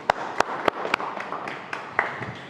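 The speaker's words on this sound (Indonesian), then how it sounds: "Tepuk tangan dulu." A small audience claps after a group presentation: a handful of distinct, uneven handclaps spaced a few tenths of a second apart, close and crisp in a quiet room.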